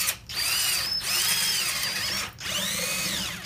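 Power drill boring into carved wood for a beginner's neckerchief slide, a steady whining motor in three long bursts with brief pauses between, close and fairly loud with no talk.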